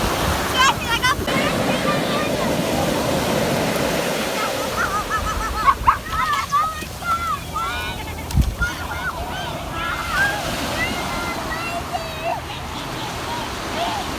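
Ocean waves wash and break on a beach in a steady, rushing surge with some wind buffeting the microphone. Voices talk and shout over the surf.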